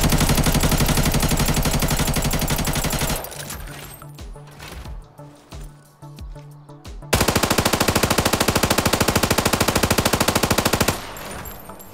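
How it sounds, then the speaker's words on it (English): Gunfire from weapons in the mobile video game Arena Breakout: two long, loud bursts of rapid automatic fire, separated by a quieter stretch of scattered single shots and clatter. "So last time trying to shoot these guns"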